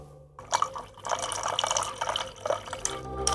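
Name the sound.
water being poured into a glass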